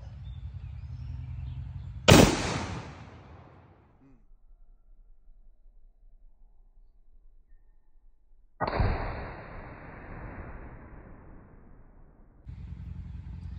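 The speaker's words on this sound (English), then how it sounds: "We shot it with an armored piercing incendiary round." A sharp, loud .50 BMG armor-piercing incendiary rifle shot cracks once and decays into a long rumbling tail, followed later by a second broad burst of noise, with no talk.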